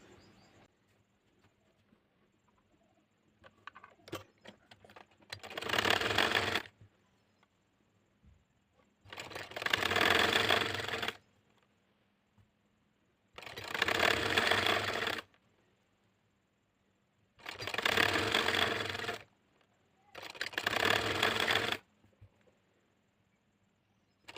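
A sewing machine stitches fine lace onto a sleeve in five separate runs of about a second each, evenly spaced with quiet pauses between them and no talking.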